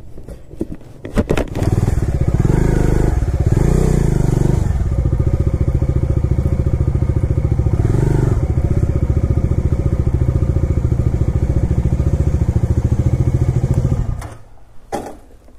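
A motorcycle engine on a rural village road in Assam runs close and loud at a steady, throbbing pitch for about twelve seconds, then cuts off abruptly.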